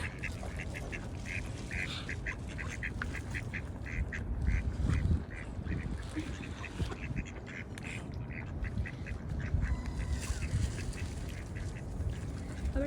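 Ducks being fed outdoors in England quack repeatedly in a steady, busy chorus of fairly close calls over a constant background rumble.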